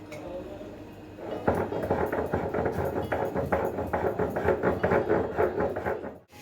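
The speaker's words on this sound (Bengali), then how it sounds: "আমি চারটে ছোট এলাচ এবং কয়েক টুকরো ছোট দারচিনি একসাথে বেটে নিচ্ছি" Small cardamom pods and a few pieces of cinnamon ground together on a stone in a home kitchen: a steady run of rhythmic scraping, grinding strokes, close and fairly loud, starting after a quiet second and continuing to the end.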